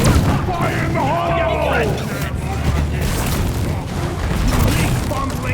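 A thrown grenade goes off in the video game Deep Rock Galactic, giving a loud, booming blast within a noisy, cavernous battle, while game voices talk over the rumbling din.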